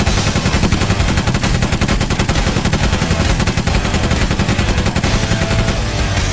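Loud, sustained bursts of rapid gunfire from two guns in a movie scene crackle without pause, with dense overlapping shots and no voices.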